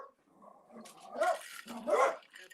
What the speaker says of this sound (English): It was a dog going by the window.